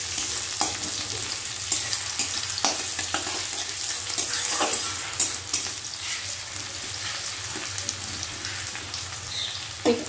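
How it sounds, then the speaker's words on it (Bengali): Chopped garlic, green chili and onion fry in hot oil in a steady broadband sizzle, with a low hum beneath and a few scattered clicks and crackles as the pan is stirred. "এবার গরম তেলের ভেতর দিয়ে দিচ্ছি রসুন কুচি, দিয়ে দিলাম কাঁচা লঙ্কা"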